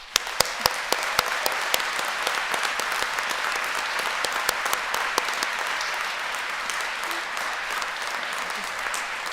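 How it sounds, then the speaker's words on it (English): Graduation-ceremony audience applauding academic and support staff at Ulster University Coleraine, a steady dense wash of clapping from a large crowd, with a few sharper claps standing out near the start and the sound sustained evenly throughout. "giving a well-deserved round of applause to our academic and support staff"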